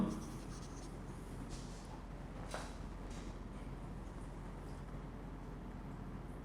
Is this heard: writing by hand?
yes